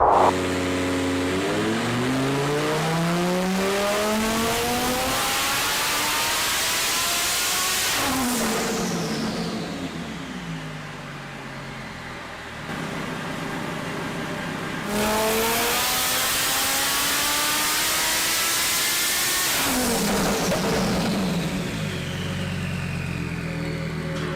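A 2000-horsepower twin-turbo Lamborghini drag car screams through rapid upshifts, engine pitch climbing steeply then dropping at each gear change in two long loud runs, with brief lulls between and no talking.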